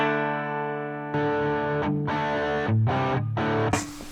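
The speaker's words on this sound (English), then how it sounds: "Then we got the bare tooth distortion." An electric guitar played through a cheap Bare Tooth distortion pedal: a sustained chord rings out, then several choppy, gritty chords strike in a short rhythmic pattern.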